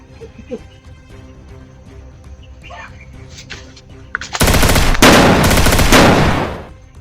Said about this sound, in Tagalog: Ay, doon may putok.